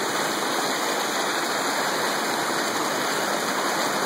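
Cold creek water flowing steadily in a Washington creek that feeds Finney Creek, a dense, continuous close rushing wash that never lets up.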